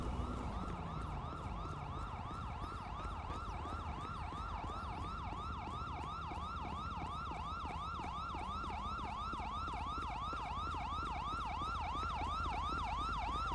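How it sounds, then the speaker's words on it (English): A video game police car siren wails continuously in a fast, repeating yelp pattern over a low engine rumble, loud and steady throughout. "Let me turn off my siren."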